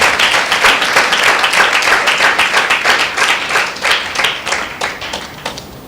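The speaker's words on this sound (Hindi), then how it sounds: "एक जोरदार ताली।" A church congregation at a New Year's Eve meeting claps hard and loud on cue, a dense burst of hands that stays strong for several seconds before thinning and fading out near the end.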